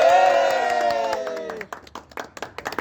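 A group of people claps unevenly at a home birthday party over momos, the claps starting after a sustained sung note fades. The claps are moderately loud and close, with scattered voices mixed in.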